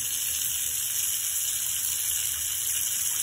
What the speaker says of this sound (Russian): Тоже я горячей водой